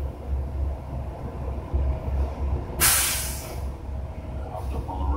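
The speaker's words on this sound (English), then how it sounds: "There goes the truck." A truck pulls away at a car wash, a low idling engine rumble that swells slightly before a sudden loud burst of air hiss from its brakes, followed by a fainter second hiss.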